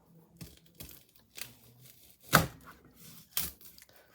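Onion chopped on a chopping board, a handful of separate sharp knife strikes spaced irregularly, close and clear against quiet gaps.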